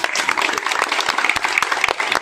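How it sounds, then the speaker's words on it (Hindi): Applause from an audience at a BJP ward e-Shram card distribution event in India, dense steady clapping from a crowd lasting a couple of seconds, close and fairly loud. "तो ताली मारो"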